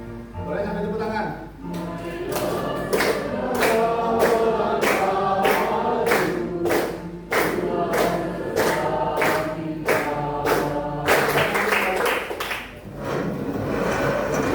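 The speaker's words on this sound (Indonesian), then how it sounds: "Boleh sampai tepuk tangan." High school students clap their hands steadily in rhythm while singing together in a class, and the regular sharp claps run through the whole stretch under the song.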